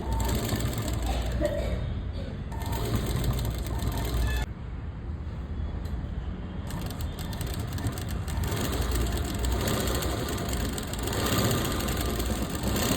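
An electric sewing machine, fitted with a normal presser foot, runs a steady stitch along a fabric edge, a continuous close mechanical whir with a brief pause partway through.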